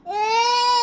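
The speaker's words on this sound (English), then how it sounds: "Sorry for my baby's noise in the background." An infant cries in the background of a quiet room, a single sustained wailing note that holds steady for under a second, fairly clear and not talked over.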